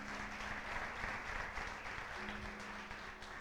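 A church congregation applauds during a sermon, steady dense clapping from many hands throughout, fairly distant with a low hum beneath.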